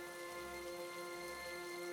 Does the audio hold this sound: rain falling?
yes